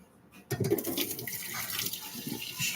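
Water runs from a kitchen faucet while a loaded bacon cheeseburger Alfredo pasta is cooked, starting suddenly after a short quiet moment and then flowing steadily and close by, with no talk.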